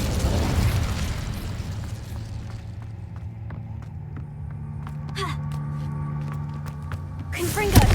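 An Incendio fire spell in Hogwarts Legacy erupts with a loud burst and roar that fades into a crackling tail, followed by another sharp burst at the end.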